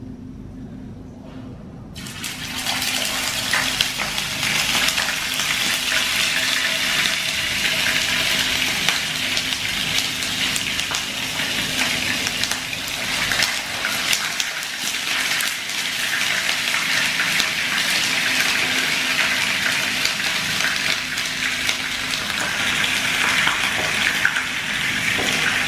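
Mackerel pieces fry in hot oil in a pan, producing a loud continuous sizzle and crackle that starts abruptly and holds steady throughout, with no talking.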